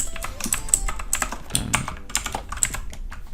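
Code being typed on a computer keyboard, with rapid irregular clicking of keys, close and steady with short pauses between bursts.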